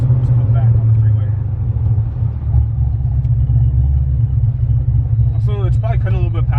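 A V8 car engine accelerates hard on a freeway, a loud steady low rumble filling the whole stretch, with a voice briefly speaking over it near the end.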